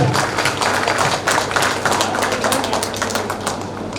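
A school audience claps loudly and continuously for a teacher, a dense wash of hand claps with no break.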